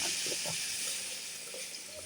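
Water poured into fish curry cooking in a pan gives a steady, close hissing sizzle that slowly softens, with no one talking.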